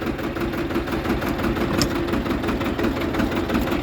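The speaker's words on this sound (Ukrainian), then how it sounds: "Зараз підніму фрезу." A Xingtai 220 tractor with a 130 cm rotary tiller attached runs steadily at a loud, close, rhythmic chug while the tiller is being raised, with no talk over it.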